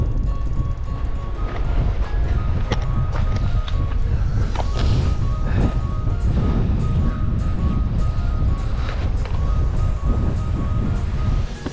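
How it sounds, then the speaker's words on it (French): Strong coastal wind near the Baie des Trépassés in Brittany buffets the microphone in a continuous loud roar, gusting throughout with rumbling low-end noise and no clear voices. "Un vent de fou!"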